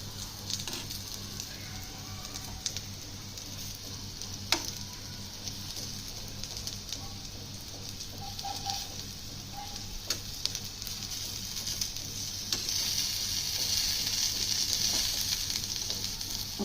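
Bitter gourd fries in a pan for a spicy karam dish, giving a steady, close sizzle with scattered small ticks and pops that grows a little louder toward the end. No one speaks.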